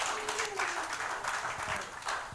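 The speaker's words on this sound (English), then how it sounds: "Let's give Stan a huge round of applause." An audience at a climate pavilion panel event gives a round of applause, a soft, even mass of clapping that sounds distant and fairly faint, with a brief tonal sound near the start.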